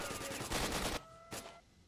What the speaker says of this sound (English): people are shooting at me from every direction possible